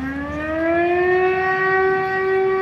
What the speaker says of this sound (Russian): Естественно, воздушная тревога.